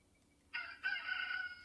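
Rooster's cock-a-doodle-doo on a farm in the early morning, a single fairly quiet crow that kicks in after a brief pause and holds steadily to the end, with no voices around.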